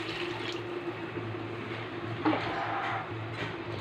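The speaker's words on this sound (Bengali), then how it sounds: "এবার এর মধ্যে জল মিক্স করে দিচ্ছি" Water poured into a spiced fish curry and stirred in, a quiet, continuous trickling and sloshing with a small splash partway through.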